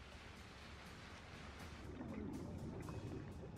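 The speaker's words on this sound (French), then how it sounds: "Mais une grosse série de vagues arrive, et ça devient vraiment chaud." A big set of ocean waves rolls in and breaks along the shore, a dense roaring wash of surf that swells louder in the second half, heard faintly with wind and no clear talk.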